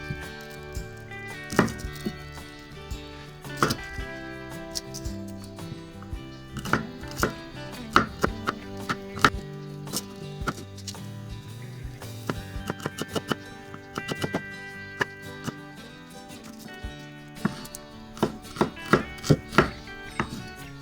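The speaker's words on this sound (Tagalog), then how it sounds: "nakatapos na tayo ng paghihiwa ng sibuyas" A knife chops onion on a board in quick, irregular strokes, a dense run of sharp wooden taps with brief pauses between bursts. The chopping is close and crisp, with no voices.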